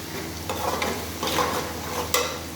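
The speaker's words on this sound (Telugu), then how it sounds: "బోటి కర్రీ ఇట్లా కలుపుకున్న తర్వాత" A spoon scrapes and stirs goat tripe (boti) curry in a pan, with a soft sizzle under a few uneven stirring strokes at moderate, close range.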